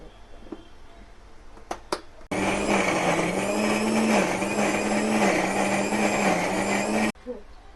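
A kitchen mixer grinder blending salt, cumin and other ingredients to a fine paste, running loud and steady for about five seconds with a humming motor whine, preceded by a few clicks and stopping abruptly.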